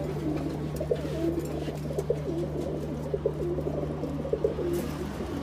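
Pigeons coo softly and repeatedly in a loft of high-flying and fancy breeds, low murmuring calls recurring with faint wing or perch clicks over a steady background hum, no voices.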